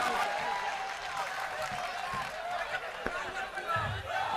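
Modest applause rises from an audience at a humorous Hindi-Urdu poetry recital, fairly faint and somewhat distant clapping that carries on for a few seconds with a murmur of voices underneath.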